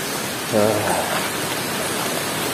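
Steady rain hissing down in tropical rainforest at Bukit Barisan Selatan National Park, Sumatra, mid-afternoon by a riverside camp, a continuous wash of drops with a brief voice and a short tonal sound near the start.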